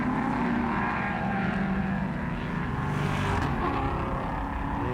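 Race cars cross the start-finish line at a motor race, a loud, continuous engine roar passing close by with no talk over it.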